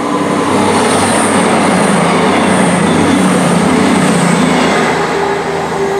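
A Class 350 train pulls into Tipton Station with a loud, continuous rumble. Wheel noise and a faint high squeal run steadily through it, and there is no talk.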